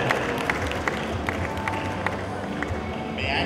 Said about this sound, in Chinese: 我们掌声先给 Mr. and Mrs. James Gunn 好吗？